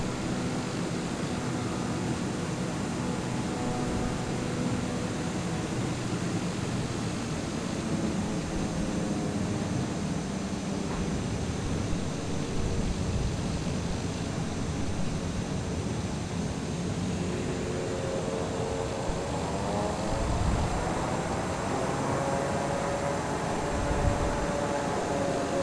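A TBM single-engine turboprop aircraft in flight, heard from inside the cabin as a steady, dense broadband engine drone with a faint whine drifting in pitch, continuous and unbroken throughout.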